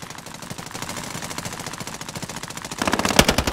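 Video game gunfire: a steady rapid automatic burst rattles on close and even, swelling louder and denser near the end, with no talk over it.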